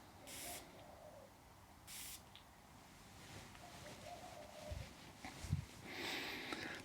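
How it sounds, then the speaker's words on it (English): An atomizer bottle of fragrance gives short, soft hissing sprays, two clear puffs early and more near the end, faint and close against a quiet room. "It's such a fine mist that it comes out dry."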